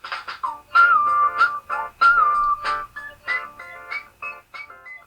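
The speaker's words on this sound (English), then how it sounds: "That's you on the slide whistle." A slide whistle plays a series of short, bright pitch swoops and chirps in a halting, playful rhythm. Each note is close and clear and separated by brief pauses.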